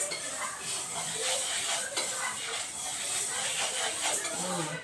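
Quiet sizzling and crackling of lentils dry-roasting in a pan, with occasional small pops and scraping of a utensil, faint voice in the background.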